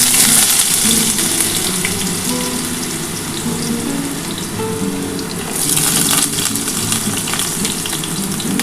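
Potatoes hit hot white oil in a nonstick pan, a loud, steady sizzling hiss that swells again partway through, close and without talk.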